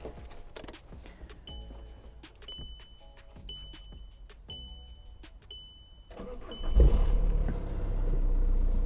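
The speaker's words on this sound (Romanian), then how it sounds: "să vedem cum pornește și cum se aude motorul" A VW Touran's engine cranks and catches after a series of electronic beeps and clicks, starting on the first try, then settles into a steady low idle.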